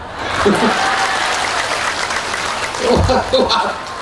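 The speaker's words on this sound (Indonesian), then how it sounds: "Ayo tepuk tangan no." A crowd at an istighosah and tablig akbar religious gathering claps in a sustained burst of applause, with a few voices and chuckles rising near the end.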